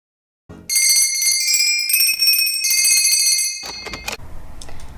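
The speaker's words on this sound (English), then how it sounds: "Rang the bell." A bright, sustained bell rings loudly for about three seconds with shimmering overtones, then cuts off into a few clattering knocks and faint rustling.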